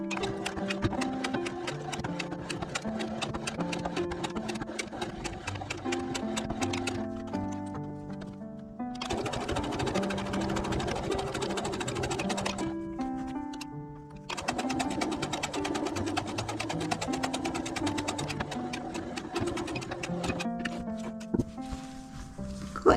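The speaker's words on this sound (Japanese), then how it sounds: "こっちも縫っていきます。" A sewing machine stitches a small bag in long, rapid runs of clattering stitches with brief pauses between seams, heard close over soft background music.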